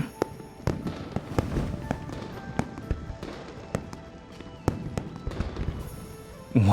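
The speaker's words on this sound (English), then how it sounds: "The fireworks are too loud." New Year's fireworks in Love and Deepspace crack and pop in sharp, irregular bursts, some near and loud, others softer, with a low rumble between blasts.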